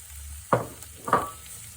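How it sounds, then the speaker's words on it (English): Two short bursts of sizzling as sweet peppers hit a hot pan with chicken, about half a second apart, with a quiet background hum between them. "just sizzle a little bit in here into the chicken."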